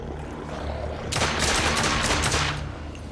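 Gunfire from a handgun and a rifle in The Order: 1886 video game, set against lycans: a dense, loud burst of rapid shots that erupts suddenly and rattles on for about a second and a half before fading over a steady rumbling backdrop.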